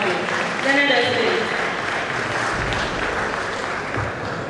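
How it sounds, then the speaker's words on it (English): An audience applauds to welcome senior advocate Lateef Omoyemi Akambe at the Nigerian Bar Association Benin branch law week, the clapping steady throughout, with a voice speaking over it near the start. "Please welcome him with a rousing round of applause"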